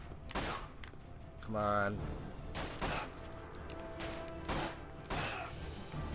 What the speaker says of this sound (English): let's just equip the handgun. Move out! Because that is my best weapon, and I want to take out these guys.